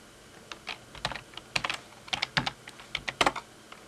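A website address being typed on a computer keyboard: quick, close clicking keystrokes in short irregular bursts, quiet and clear with no talk.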